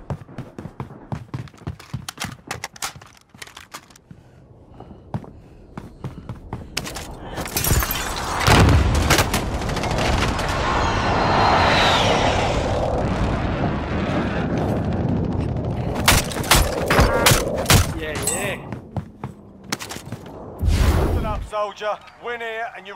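Gunfire and explosions from a video game, with dense bursts of shots, booming blasts and a sustained rumble, heard under frequent voices talking and shouting.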